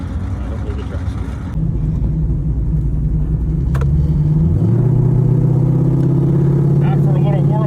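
A drag race car engine idles and rumbles on a warm-up run at the top end of the track, climbing into a louder, steadier drone partway through, with faint speech mixed in.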